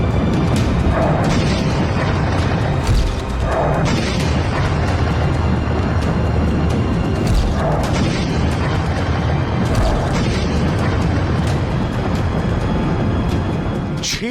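A loud, sustained roaring rumble with dense low noise throughout and occasional bursts, like a large nuclear explosion heard on a distorted recording.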